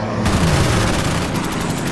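Shooting at a bomber in the Winter War strategy game Order of Battle, set on the Karelian Isthmus, comes as a loud, dense, continuous blast of fire and rumble that fills the short moment.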